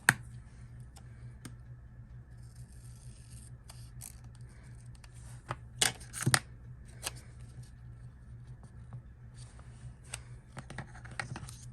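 Scissors cutting paper for a planner, faint close snips and clicks scattered over a quiet background with a soft hum, a couple of louder crisp cuts midway, no talk.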